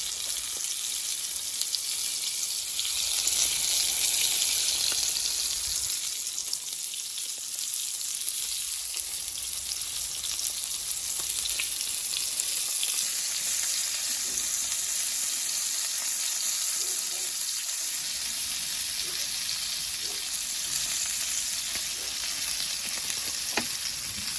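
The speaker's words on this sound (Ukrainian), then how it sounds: "Там жаримо вже наші карасики, цибульки." Crucian carp and onions frying in a hot pan, with a loud, continuous hiss and crackle of oil that carries on steadily, plus a few faint utensil knocks.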